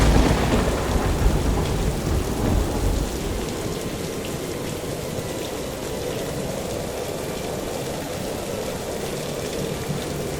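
A storm at sea with rolling thunder and heavy rain, opening with a loud low rumble that eases into a steady roar of downpour, with no voices.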